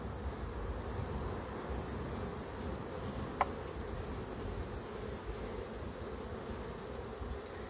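A small colony of honeybees in an opened hive hums in a steady, dense buzz close by, with a single faint click partway through and no talking.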